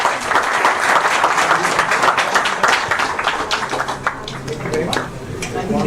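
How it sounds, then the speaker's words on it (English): Audience applause closes a conference session at an AI and employability summit in New Delhi, a steady, dense wash of many hands clapping that carries on loudly for the whole stretch. "A big round of applause for all the speakers"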